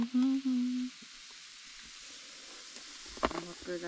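Jingisukan lamb sizzles in a pot inside a snow igloo (kamakura) during a Hokkaido blizzard, a soft steady frying hiss that is low and continuous, with a voice briefly at the start and more voices near the end.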